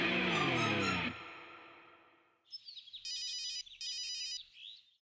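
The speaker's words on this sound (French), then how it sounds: "Maman, Zoya t'appelle." A phone ringtone for an incoming call plays in two short repeated electronic bursts, clear and fairly close, after a fading musical passage.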